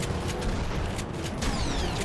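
Rapid gunfire from vehicle-mounted weapons in the car-combat video game Gas Guzzlers Extreme, a dense, continuous barrage of loud shots and bursts over engine noise, with no one talking.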